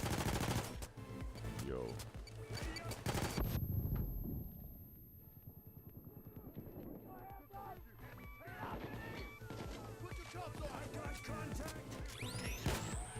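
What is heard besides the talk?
gunfire from a gun in a heist video game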